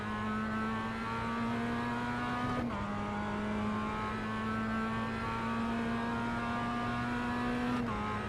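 Mazda Miata race car in the iRacing sim, its engine droning steadily with strong harmonics at near-constant revs, two brief dips suggesting quick lifts or shifts, loud and continuous with no talk.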